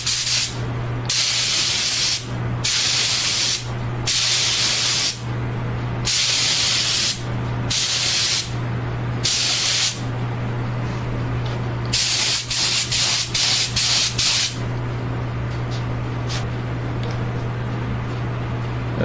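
A spray gun lays down a third coat of finish on a custom nine-string electric guitar, giving repeated loud hissing bursts in an even rhythm, then quicker short puffs, over a steady low hum.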